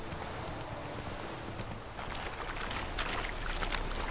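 Horse hooves clip-clop steadily in The Witcher: Wild Hunt video game, a continuous mid-level rhythm under ambient game sound, growing slightly busier toward the end.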